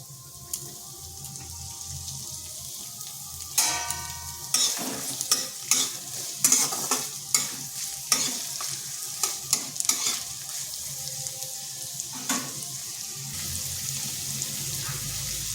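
Chopped onions go into hot oil tempered with whole spices and sizzle as a spoon stirs them, with repeated scraping strokes over a steady frying hiss and no talking.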